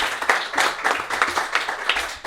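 An audience breaks into steady applause at a live freestyle show, a dense patter of many hands clapping close and continuous throughout.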